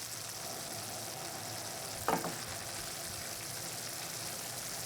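Potatoes and ham stir-frying in a pan over high heat: a steady, close sizzle runs throughout, broken once midway by a brief scraping stir.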